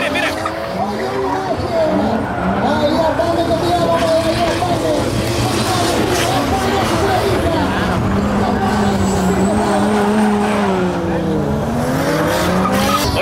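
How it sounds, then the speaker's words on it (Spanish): Several cars drifting in tandem at a packed end-of-year drift event, with continuous engine roar and tire squeal sustained throughout, loud and close, while someone talks over it. "cerrando el año como corresponde, con harto drift, con hartos autos, así que a darle"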